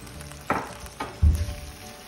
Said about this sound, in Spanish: Vamos a sofreír todo esto.